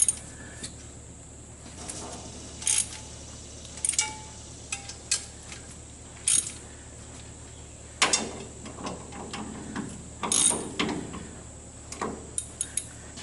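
Ratchet tightening exhaust header bolts on a 1962 Mercury Comet with a 460 cubic inch engine and custom headers: short, quiet bursts of clicking spaced several seconds apart, close by, with no talking.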